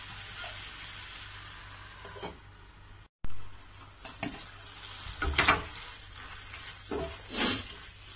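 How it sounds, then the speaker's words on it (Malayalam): Chicken pepper fry cooking covered in a pan, giving a steady close sizzle with a few louder bursts of clatter and spitting toward the end. "നമുക്ക് അടച്ചു വെച്ച് കുറച്ചു നേരം വേവിച്ചെടുക്കാം"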